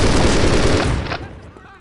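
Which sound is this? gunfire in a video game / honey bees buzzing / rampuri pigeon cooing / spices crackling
gunfire in a video game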